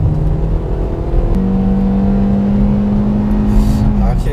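A 2016-era Hyundai Avante AD 1.6 naturally aspirated gasoline engine with automatic transmission strains under steady load, its tone rising into a sustained hum as the car climbs a slope, loud and close throughout.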